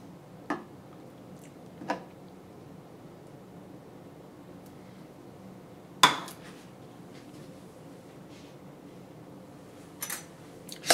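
A spoon clinks against a pan while stirring leftovers smothered in Campbell's mushroom soup gravy: a handful of sharp, sparse metallic taps spaced seconds apart over a quiet background, with no talking.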